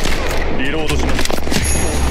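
Gunfire in Apex Legends, a steady run of shots and impacts over game noise, with a player talking over much of it.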